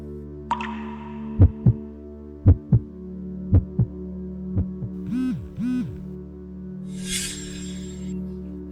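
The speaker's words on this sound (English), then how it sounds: "This time your heartbeat is fast." A fast heartbeat thumps in steady doubled pulses, each pair a low, soft thud, repeating over a quiet hum, followed by brief chiming and shimmering sounds.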